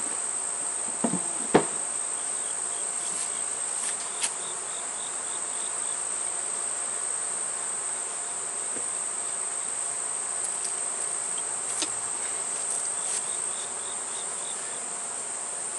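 A steady, dense insect drone of honeybees hums around a hive box, with a few faint knocks and taps early on.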